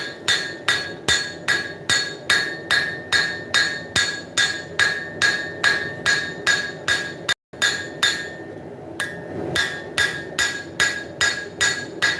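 A hammer forging the bevel on a hunting knife blade in one heat, a fast, regular series of sharp ringing metal strikes close up, with one brief pause partway through.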